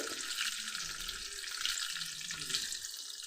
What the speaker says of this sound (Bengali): কিশমিশটাকেও আরেকটু ভেজে নেব দেখতেই পাচ্ছ ভাজার সঙ্গে সঙ্গে এগুলো একটু ফুলে উঠছে